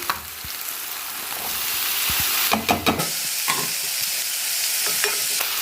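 Minced meat sizzles and fries with softened, wilted onions in a pan for moussaka, a steady close frying hiss broken by a few scraping stirs, with no talking.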